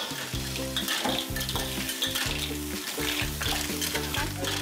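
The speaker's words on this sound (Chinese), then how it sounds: "菜心啊，要炒菜心。" Loud, continuous sizzling of choy sum being stir-fried in a wok, with the rhythmic scrape and clank of a spatula against metal.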